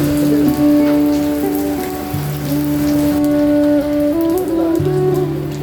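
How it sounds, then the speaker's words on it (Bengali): Heavy rain pours at Baba Loknath's memorial temple in Barodi, a steady, dense hiss of drops with a sustained tonal drone running beneath it throughout. "এইখানে এত বৃষ্টি হচ্ছে"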